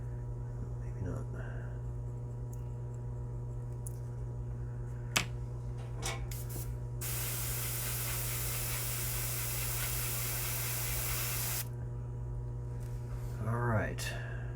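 Airbrush spraying paint: a dense burst of hissing spray lasting several seconds mid-clip, set against a constant low hum, with a few short ticks and puffs before it and faint indistinct speech near the end.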